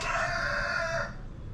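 On a farm, a rooster crows once, close and loud, with clucking chickens around it. The crow carries a clear, held pitch for about a second, then fades into low barnyard background.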